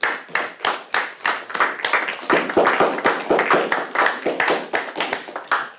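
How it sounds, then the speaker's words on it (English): Class participants clap together in a round of applause, a dense run of overlapping hand claps at a steady pace that swells briefly in the middle before easing off. "can we have a round of applause?"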